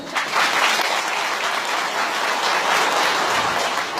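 An audience applauds hymn singers at a religious celebration programme, steady dense clapping from a hall crowd lasting throughout without talk.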